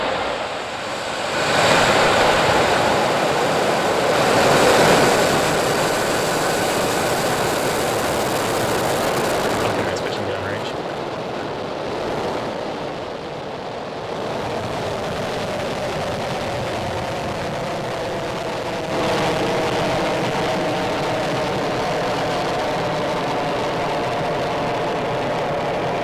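A SpaceX Falcon 9 rocket on a Starlink mission, its engines igniting at launch with a loud, rough roar that swells in the first seconds, then settles into a sustained, rumbling thunder with no voices over it.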